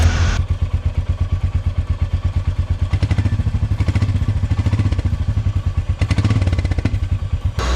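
Royal Enfield Meteor 350 motorcycle exhaust note, a close, loud single-cylinder thump with a steady rhythmic pulse, revving up in a few bursts over the idle.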